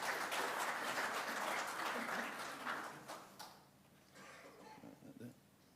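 Applause from a school audience at a live event rises as presenters come up, a dense burst of clapping that fades out over a few seconds, with faint voices underneath.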